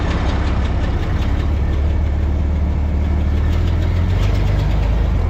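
A GIANT compact wheel loader's diesel engine runs steadily at a close, loud idle on a farm, with a constant low rumble and faint knocking throughout.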